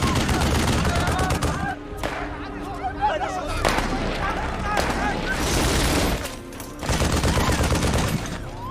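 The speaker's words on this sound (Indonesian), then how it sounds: "tim SWAT langsung memberi serangan balasan ke arah sniper musuh." Gunfire from a SWAT team firing back at an enemy sniper in an action film shootout, dense bursts of shots and booms over loud music and effects, with voices mixed in and a brief drop near the middle.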